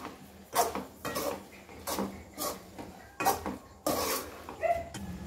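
A spoon stirs green food colouring into thick dudhi halwa of bottle gourd and reduced milk in a pan, making repeated scraping, rubbing strokes against the metal at a steady rhythm, close and fairly clear, with no talking.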